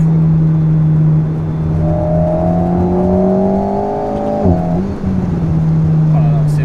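Engine of an Alpine A110 Ravage rally car building revs, a steady tone that rises in pitch as it accelerates, briefly dips mid-pull, then carries on strongly, loud and close.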